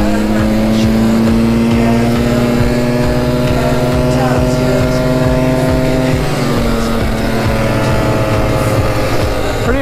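A liquid-cooled 400cc two-stroke 4x4 ATV runs fast nearby, its engine a loud, steady buzzing drone with pulsing rhythm and a pitch that shifts midway, continuous throughout.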